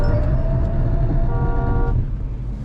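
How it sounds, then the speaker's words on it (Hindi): A Mahindra XUV 7XO AX7L petrol automatic sounds its horn automatically under hard braking from 150, with a steady horn tone rising over heavy road and engine rumble and cutting off near the end. "इंडिकेटर भी ऑन होते हैं, हॉर्न भी बजाती है गाड़ी"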